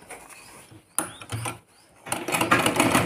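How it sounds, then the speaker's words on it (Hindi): A sewing machine stitches through a foam-sheet swing in short bursts of rapid mechanical whirring, separated by brief pauses. A longer, louder run follows at the end. "अब मैं एक सिलाई यहाँ पे लगा लूँगी जहाँ पे मेरी स्पंज यहाँ पे ख़त्म हुई है"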